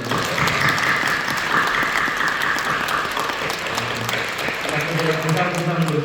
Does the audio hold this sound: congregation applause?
yes